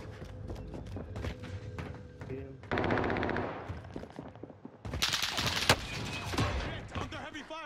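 Repeated automatic gunfire bursts in Call of Duty Vanguard Warzone, loud and close, with rapid volleys and sharp single shots over a busy battlefield while a voice talks over the action.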